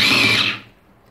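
An electric chopper whirs loudly through oranges and lemons for lemonade, a short burst of motor noise that winds down and fades within about a second.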